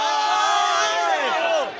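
Students at an Onam celebration at Devagiri College in Kozhikode cheer and shout loudly as a girls' team from a campus-pair contest is welcomed, a dense, continuous crowd roar with excited voices throughout, easing slightly at the end.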